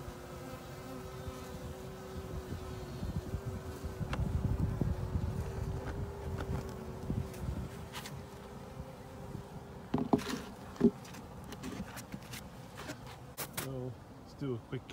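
Honeybees drone steadily around an early-season beehive during an inspection, a dense close buzz that holds throughout with a few louder passes and light wind noise on the microphone.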